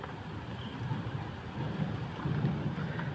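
Heavy rain falls steadily during a thunderstorm in Saudi Arabia, a dense continuous hiss with low rumbling thunder swelling underneath and no voices.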